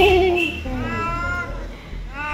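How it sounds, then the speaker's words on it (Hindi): A cat meows several times outside a home's front door in the morning, its rising and falling cries fairly close and clear, with a voice mixed in among the calls. "सुबह सुबह हमारे दरवाजे के बाहर पे बिल्ली आई है"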